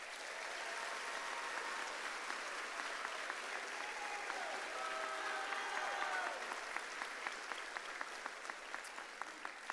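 A commencement audience at Harlingen Collegiate High School applauds steadily for about ten seconds, a dense, even wash of many hands clapping with a few sharper claps standing out near the end and faint tonal sounds mid-way.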